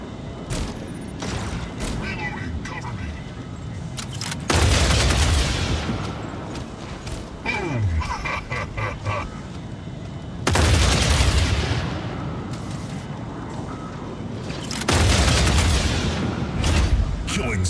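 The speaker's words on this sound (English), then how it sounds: "Incoming fire." A video game battle brings bursts of gunfire and heavy booming explosions in several loud waves, with rattling shots and mechanical clatter between them and a voice speaking over the action.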